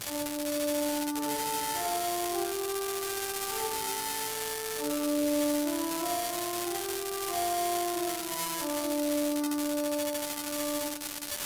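Hymn tune Rouen, also called Iste Confessor, played as a slow, quiet melody in sustained, smoothly connected notes with soft harmony underneath, continuous with no talking.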